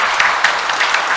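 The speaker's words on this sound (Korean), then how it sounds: "우리 이분들의 환영의 박수를 보내겠습니다" A congregation at a Korean Catholic Mass on the Solemnity of Mary, Mother of God, claps to welcome visiting tourists, a brief dense burst of many hands applauding loudly and close.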